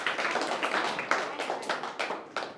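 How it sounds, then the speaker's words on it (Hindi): A small audience claps at a community gathering, with distinct, uneven hand claps close by in a loose, irregular rhythm. "जोरदार तालियां"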